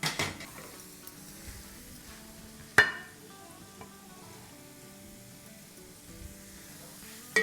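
Masala frying with fish and potatoes in a pan, a steady low sizzle running throughout with a couple of sharp utensil knocks against the pan.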